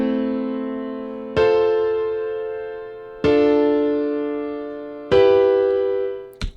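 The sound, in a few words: triad chords played in a music production program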